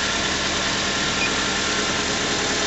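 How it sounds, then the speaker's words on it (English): A car engine idles steadily and close with a smooth, even drone that holds unchanged from start to finish, and no voices. "the engine is now running and the alternator is giving you a charge"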